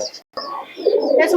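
Malbai pigeons coo low and close for about a second, with a short gap of silence early on and some faint higher chirps near the end.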